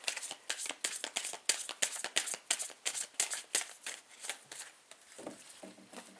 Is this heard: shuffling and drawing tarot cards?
yes